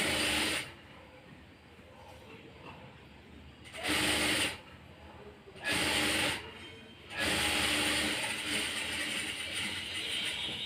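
A sewing machine stitches a blouse sleeve seam in steady bursts, its fast whirring rattle starting and stopping several times with brief quieter pauses between runs, close and loud with no talk.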